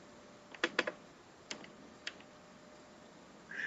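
Typing on a keyboard: a quick cluster of three or four keystrokes, then two isolated taps spaced apart, faint and close in a quiet room, ending with a brief rising noise.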